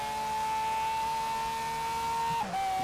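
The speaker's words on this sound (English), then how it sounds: "I know this car is loud, ain't it" A loud car engine roars in the racing game Forza Horizon 3, holding a steady high-revving drone that dips briefly near the end as if shifting gear, with no talking over it.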